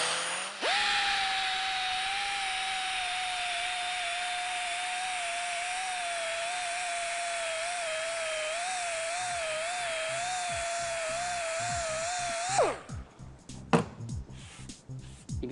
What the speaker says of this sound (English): It's just an eraser on a drill.